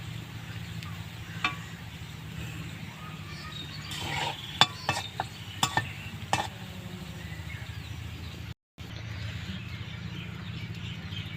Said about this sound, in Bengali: এইভাবে একটু কম আঁচে ভাজলে পরে বেশ কালারও আসে এবং ক্রিস্পিও হয়।